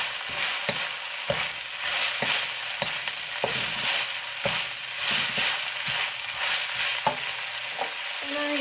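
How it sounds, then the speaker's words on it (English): Chili, garlic, ginger and green onions sauté in oil at the side of a wok during an eggplant and beef stir fry, a constant loud sizzle punctuated by evenly spaced spatula scrapes. "So you use the oil on the side to saute the chili and garlic, ginger, and green onions."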